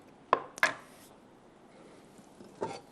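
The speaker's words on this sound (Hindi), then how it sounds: "अब स्प्रिंग अनियन कटिंग करेंगे वो इसमें डालेंगे" Spring onions being chopped on a board for a chili saucy chicken dish: two sharp knife strikes close together near the start, then a pause and a third chop, each crisp and close in a quiet kitchen.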